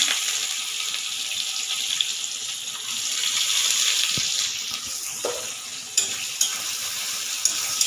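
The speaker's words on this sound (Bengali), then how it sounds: "এখন লোহার কড়াইতে করছি, একটু কালো হবে। এইবার পেঁয়াজ দিয়ে দিলাম।" Onions hit hot oil in an iron wok (kadai) in a home kitchen where crab was just fried, giving a steady broadband sizzle with a few scraping stirs and clinks, no one speaking.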